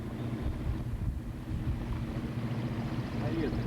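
Boat engine running on White Rock Creek, a steady low droning hum that holds even throughout, with wind buffeting the microphone over it.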